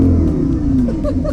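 A Lamborghini Huracan engine revs in a short, loud burst with a rising then falling roar, heard up close over a background of crowd chatter.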